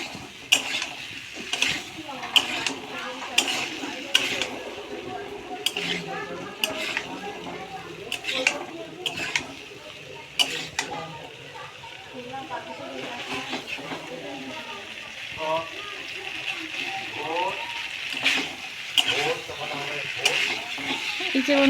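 Pointed gourd and potato curry stirred and sautéed in a pan, with repeated scraping and clinking of a utensil against the metal and a light sizzle underneath, while a voice talks intermittently over it.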